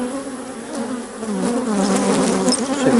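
Honeybees from a hive split buzz close around a frame, a dense steady drone with shifting pitch that grows slightly louder toward the end, no talking.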